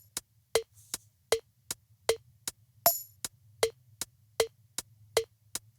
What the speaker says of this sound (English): I really like the sound of that click track because it's got a tambourine at the downbeat